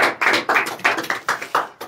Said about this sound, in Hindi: उसके जी उठने के लिए जोरदार तालियां